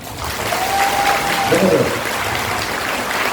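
A seminar audience claps with both hands, a sustained wash of applause filling the room while a voice carries faintly underneath.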